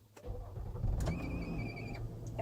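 Inside a car with push-button start, an electric seat motor whirs steadily for about a second as the seat moves itself into the driver's chosen position, following a click and low engine rumble, with no talking.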